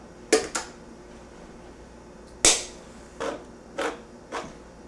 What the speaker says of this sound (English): This is a can opener.